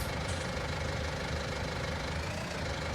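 A tractor engine in the Farming Simulator 19 game idles with a steady, dense rumble and faint knocking, unbroken and even in loudness throughout.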